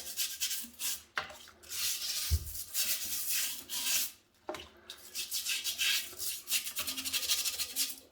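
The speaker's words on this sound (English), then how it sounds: "I'm also going to just give these bits a little scrub here, all around this edge." A brush scrubs limescale around the edge of a sink in repeated rough rubbing strokes, close and steady, broken by a few brief pauses and a single knock.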